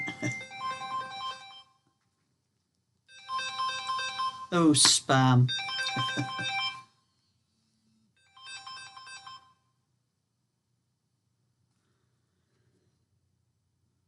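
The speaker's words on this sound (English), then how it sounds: "my phone is ringing." A mobile phone ringtone plays a bright melodic tune in short bursts at home, with a voice talking briefly between rings.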